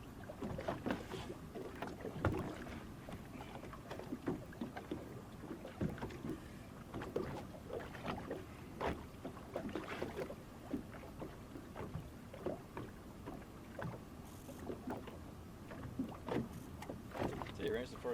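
A small fishing boat runs over nearshore water with a steady rush of hull and wash, broken by irregular bumps and splashes, with wind buffeting the microphone throughout.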